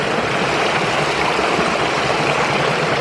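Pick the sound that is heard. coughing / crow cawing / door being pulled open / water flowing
water flowing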